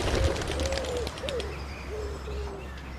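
Pigeons coo in a series of soft, low, rolling calls close by over a steady background rumble, with no one talking.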